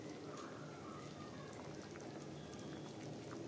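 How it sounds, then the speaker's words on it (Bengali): Moong dal cooked with a katla fish head bubbles at a steady boil, a faint, dense patter of popping bubbles with a low continuous rumble and no voices. "ডাল ফুটে গেছে"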